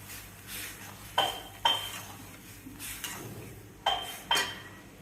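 Breakfast batter mixed in a dish, with a few sharp clinks of a spoon against the bowl in pairs and a soft scraping between them, close and quiet, with no talk.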